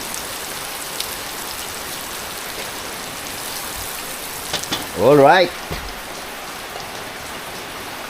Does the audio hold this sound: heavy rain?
yes